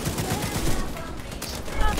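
Rapid gunfire in a video game crackles in dense bursts at close range, with voices talking over the shooting.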